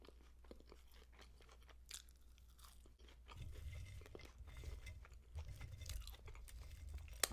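Crunchy little Chick-fil-A french fries being chewed close up, a steady run of crisp crunching and biting bites that grows louder and denser partway through, with no talking.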